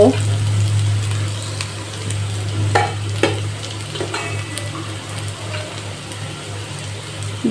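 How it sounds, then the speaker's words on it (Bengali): Onion, garlic and neem leaves fry in hot oil for a neem-brinjal dish, a steady close sizzle with occasional scraping stirs and a low background hum, a voice speaking now and then. "পেঁয়াজ রসুন আর নিম পাতাটা ভাজা হয়ে গেছে কিছুটা"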